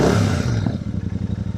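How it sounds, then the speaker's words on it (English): The engine of a new Royal Enfield Super Meteor 650 motorcycle sounds as a brief burst, then settles into a close, steady low idle with an even thumping pulse. "First ride on the brand new Royal Enfield Super Meteor 650"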